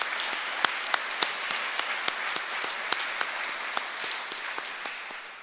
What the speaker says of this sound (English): So let's give Shane another round of applause.